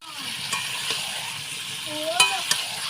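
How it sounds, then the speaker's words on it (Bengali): Meat sautés in oil in a pan, a close steady sizzle punctuated by a few sharp clacks of a stirring spoon, with a brief faint voice near the end. "এবার মাংসটা আমি এখানে ভালো মতো কষিয়ে নিচ্ছি"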